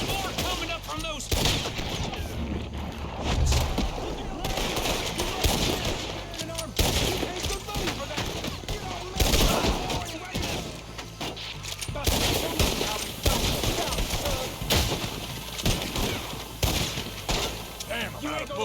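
Gunfire rattles in Red Dead Redemption 2, a busy firefight of repeated shots and volleys at uneven intervals, with talk and game voices mixed over and between the bursts.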